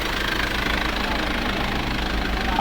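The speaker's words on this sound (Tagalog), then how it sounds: "So sa ngayon po, gumagana po itong ating electric aircon." The electric air-conditioning compressor in a converted electric owner-type jeep runs with a steady, close, droning hum and a faint rattling vibration that holds even throughout.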